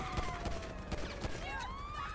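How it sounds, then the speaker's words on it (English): Gunfire in GTA V with the LSPDFR police mod: a handful of sharp, fairly quiet shots spaced irregularly over a low game ambience, with no talking. "Why do we have other gunfire?"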